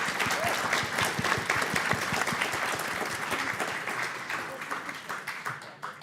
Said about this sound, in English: can I get a big round of applause for the panelists?